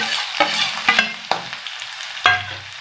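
Finely chopped onion going into hot oil in a pan for a chavli leaf vegetable dish, sizzling and frying with several sharp scraping stirs of a spoon, close and clear, no talk.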